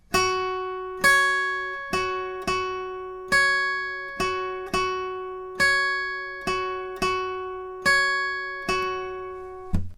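Clean guitar playing a pre-chorus lick over and over, a steady rhythmic run of a dozen or so plucked notes each ringing and decaying, moderately quiet and alone with no voices.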